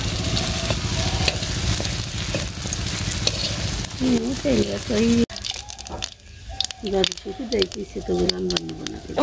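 Eggplant fries in a pan with a steady, close sizzle, while someone talks over it for much of the stretch.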